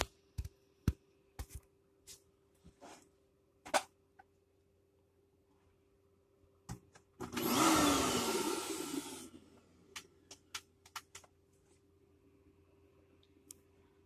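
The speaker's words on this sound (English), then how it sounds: "So I'm going to start vacuum cleaning." A vacuum cleaner powered by a Kodiak solar generator switches on for about two seconds and then cuts out, set among scattered sharp clicks and ticks in a quiet room.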